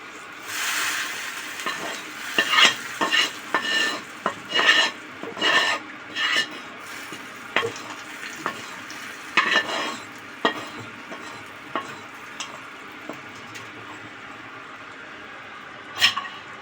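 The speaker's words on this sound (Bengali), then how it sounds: "এই রসুন আর লঙ্কা ভাজাটা এবার দিয়ে দিচ্ছি।" Fried garlic and chili added to lentils in a clay pot, with a soft sizzle beneath repeated scraping, rasping strokes of stirring that come in bursts and then thin out.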